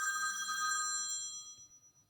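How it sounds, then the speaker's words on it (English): A mobile phone rings with a bright electronic tone that holds briefly and then fades away, faint and alone in a quiet room. "That was my phone."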